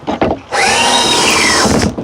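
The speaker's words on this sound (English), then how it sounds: "so I'm drilling off the edge" A power drill bores on an angle into the edge of a wooden board beside a wall, a short rising whine held steadily for over a second after a couple of brief blips, close and loud with no talk.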